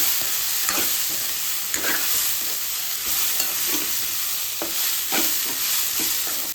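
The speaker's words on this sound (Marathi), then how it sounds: "चांगलं हलवून घ्यायचं याला." Rice and dal khichdi frying in a pan, stirred repeatedly with a spoon scraping and knocking against the metal in an irregular rhythm over a constant close sizzle, no voices.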